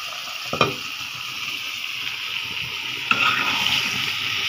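Bengali vegetable curry cooking in a pan, a steady sizzle and bubble with a couple of sharp stirring clinks near the start and again around the middle, no voices.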